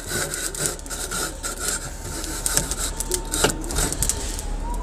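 A hot barbecue grill grate being cleaned: rhythmic back-and-forth scraping and rasping strokes, close and steady, with no talking.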